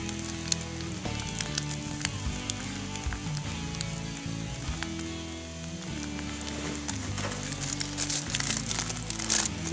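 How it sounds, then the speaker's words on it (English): Eggs frying in a pan over a Pathfinder alcohol stove outdoors, giving a steady close crackling sizzle with small pops and spatters throughout. "And put the other egg on top. And cook up for a little bit."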